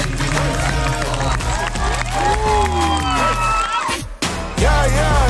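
An audience cheers, whoops and claps for fifth graders at a school event, with the loud, sustained crowd noise mixed with overlapping voices and music before briefly dipping and surging again.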